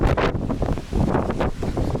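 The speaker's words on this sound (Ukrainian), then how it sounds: "Сьогодні, звісно, вітер, трохи вітряно" Gusty wind buffets the microphone outdoors in a giant pumpkin field, a steady rumbling roar with rising and falling surges and no voices.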